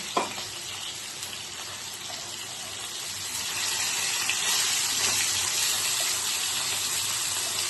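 Potatoes frying in a pan on a gas stove, a steady broadband sizzle that swells louder partway through and holds, close and continuous with no talk.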